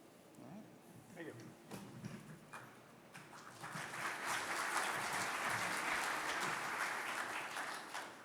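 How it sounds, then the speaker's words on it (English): An audience applauds a presenter at a morning session, scattered claps and faint murmuring building after a few seconds into full sustained clapping, heard from some distance. "I appreciate the applause"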